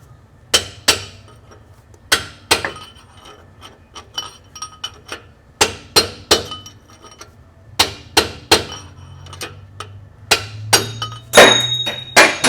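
Sharp, loud hammer blows ring out on a steel punch, driving a bearing race out of a rear end, in irregular clusters of metallic strikes with short pauses between them.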